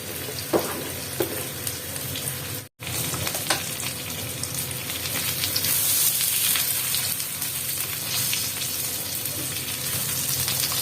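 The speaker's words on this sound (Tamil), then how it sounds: "நான் ரெண்டாக தான் பொரிக்க போகிறேன்." Fish frying in hot oil: a steady, close, crackling sizzle that runs without pause, with a few sharper pops and no voices.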